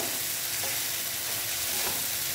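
A ground mustard and poppy seed paste fries briefly in a pan for steamed egg curry, making a dense, close, continuous sizzle with faint stirring and no talk.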